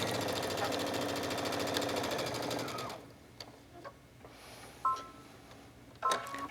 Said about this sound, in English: Then we're ready to put this under the presser foot and sew.